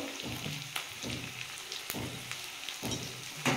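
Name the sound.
onion and garlic frying in oil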